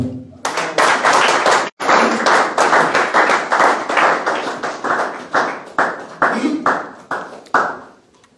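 A church congregation claps in steady, rapid applause to praise the Lord, sounding loud and close with dense clapping that breaks off briefly and then slowly thins toward the end.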